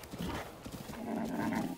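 Horse hooves clip-clopping in The Legend of Zelda: Breath of the Wild, a quick run of soft, muffled hoofbeats over a low rumble, brief and fairly quiet with no talk.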